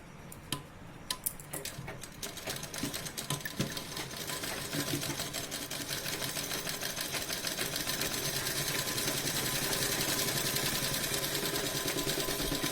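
A sewing machine runs continuously, stitching the side seam of an A-line nighty with a rapid, even needle rattle that builds slightly in intensity and stays close and steady throughout.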